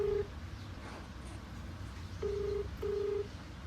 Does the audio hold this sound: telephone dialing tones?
yes